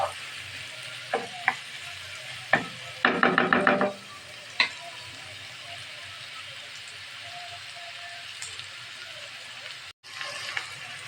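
Carrots stir-fried in a pan for fried rice, a steady soft sizzle with a few sharp clatters of a spatula and a brief cluster of scraping strokes, mostly without talk.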